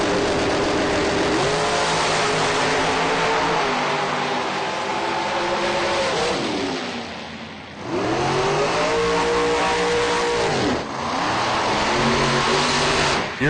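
Drag race cars launch and tear down the strip, engines revving hard with repeated rising whines as they shift through gears, loud and close, one car's howl fading before another burst of acceleration.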